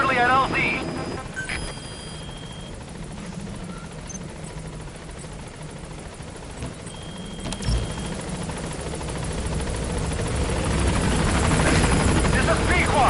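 A Metal Gear Solid V helicopter arriving at a landing zone, its rotor drone steady and building louder toward the end, with radio voices talking over it.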